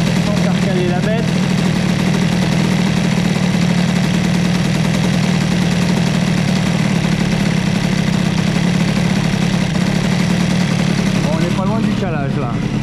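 Boosted Airsal 70cc scooter engine idling steadily with a loud, continuous low hum and fast buzzing throughout, cold engine with the idle being lowered, a few brief revs near the start and end.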